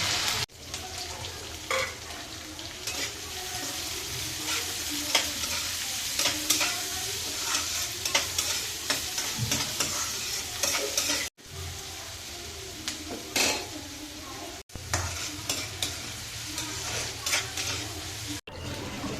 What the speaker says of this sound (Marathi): त्यानंतर त्यात आपण घेतलेला कढीपत्ता चिरलेली मिरची व चिरलेला कांदा टाकून छानसे परतून घ्यावे